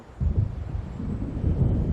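An approaching thunderstorm in the video game Alan Wake rumbles low and continuously, a deep rolling roar with gusty swells, loud and alone.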